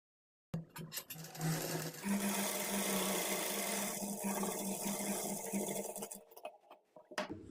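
A tailor's sewing machine runs steadily for about five seconds, stitching darts in a blouse with a dense, even motor whir, then slows and stops with a few light clicks.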